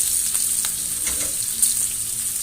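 A rib-eye steak sizzles steadily in a hot cast iron pan while it is basted with butter, thyme and garlic, giving a loud, continuous close crackle with no talking.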